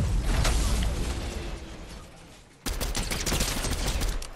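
Rapid gunfire rattles in the video game Fortnite in dense, loud bursts that fade briefly and then return at full intensity.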